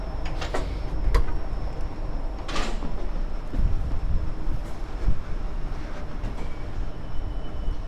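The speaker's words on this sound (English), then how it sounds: "I am waiting for the train to depart" Inside a quiet Jakarta MRT metro train carriage: a low steady rumble with occasional clunks, thumps and a faint high whine, no voices.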